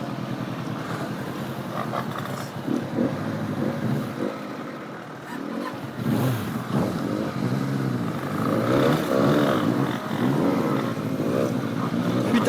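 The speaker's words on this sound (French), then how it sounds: "Putain, mais il y en a des motos aujourd'hui." Several motorcycles pass one after another on a spring day, engines swelling and fading in overlapping waves around a rider's own bike, loud and fairly close.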